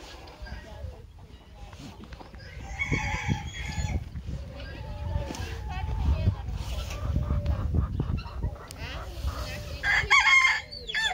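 Chickens and a rooster in a Bulgarian village yard cluck and call on and off, with a crow rising near the end, while people talk nearby and a dog chases the birds.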